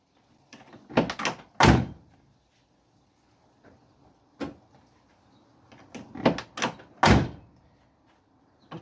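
A C3 Corvette pace car's door and electric door locks make a series of sharp thuds and clicks at irregular intervals, with quiet gaps between them. No one speaks.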